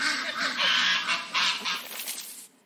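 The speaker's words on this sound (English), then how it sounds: "Duck quacks don't echo." Duck quacking played back from a video comes through as a steady series of raspy, honking calls at moderate distance, somewhat thin and faint, ending abruptly.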